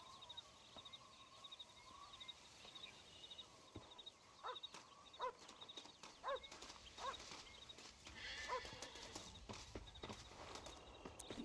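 Horse hooves clip-clopping at a walk in the video game Red Dead Redemption, on Marston ranch, a steady faint rhythm of hoof falls over quiet outdoor ambience.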